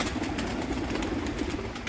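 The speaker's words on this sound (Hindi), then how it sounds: "बाहर आने लगे हैं कबूतर" Pigeons leaving their loft make soft, continuous cooing and rustling, close and steady over a brief stretch with no talk.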